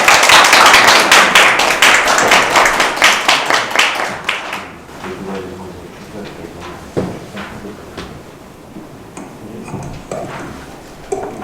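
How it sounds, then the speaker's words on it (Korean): An audience applauds at a policy forum in a meeting hall, with loud dense clapping for about four seconds that thins into scattered claps and fades out beneath faint room noise. "박수 부탁드립니다"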